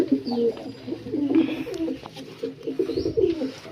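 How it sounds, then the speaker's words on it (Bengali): Domestic pigeons coo in a loft where a white hen sits on eggs, several rolling calls in quick succession, close and clear over a quiet background. "ভালো পায়রা, ডিম নিয়ে বসে পড়েছে।"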